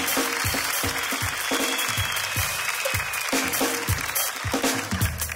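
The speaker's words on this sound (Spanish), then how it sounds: "Un fuerte aplauso para ustedes." Audience at a live comedy show applauds, a dense, even wash of clapping with some sharper individual claps, sustained and fairly close throughout.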